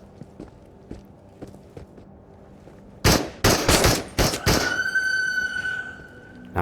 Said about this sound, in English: Not my best shooting.